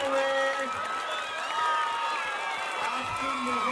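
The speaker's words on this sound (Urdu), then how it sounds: "آپ سب کی بھرپور تالیوں میں" Audience at an education event in Balochistan applauding and cheering as a speaker is welcomed to the stage, steady loud clapping with crowd noise and scattered voices throughout.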